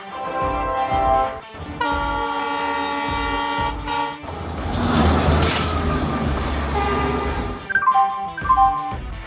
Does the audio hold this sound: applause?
no